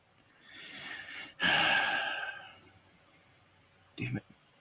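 A blocked nose from a cold gives a drawn-out wet sniffle that turns into a loud, strained snort. After a pause comes a second short, sharp sniff, close to the mic and with no one speaking over it.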